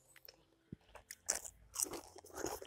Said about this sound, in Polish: Cóż, zaczynam degustację. Lśniące liście winogron w delikatnej panierce.